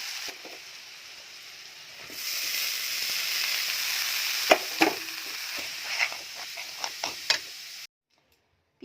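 Potatoes and banana flower fry with spices in a pan, giving a steady sizzle with scattered clicks and taps of stirring that end in sudden silence.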